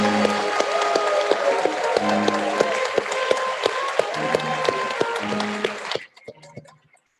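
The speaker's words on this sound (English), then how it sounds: "Let us give the class of 2020 a round of applause." At a 2020 commencement exercise, the audience gives a steady round of applause for the graduating class, with a musical backing under it, before the clapping cuts off abruptly near the end.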